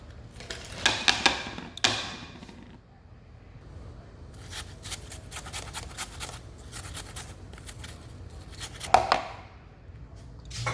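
A kitchen knife slices apples for an apple cake, giving a series of sharp, close cutting clicks and crisp chops in irregular bursts, with quieter gaps between them.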